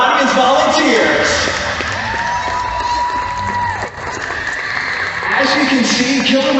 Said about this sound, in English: let's go ahead and give a big round of applause to our audience volunteers